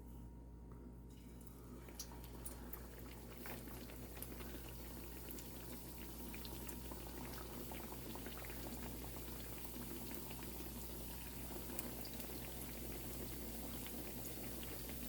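Rings of bread dough, some with a hole in the center, fry in hot oil with a dense, steady bubbling that holds at an even level throughout, with no voices.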